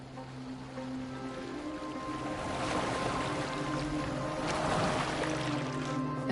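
A boat moves across water in Assassin's Creed Valhalla with a soft, steady wash and splashing that swells a little partway through, alongside a low droning hum.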